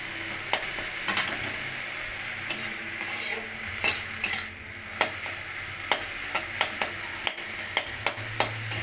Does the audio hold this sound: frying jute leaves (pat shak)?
yes